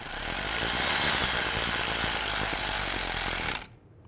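A power tool runs loud and steady as a rotor screw is snugged into the front hub of a 2011–2015 Chevy Cruze. The sustained whirring buzz stops abruptly after about three and a half seconds.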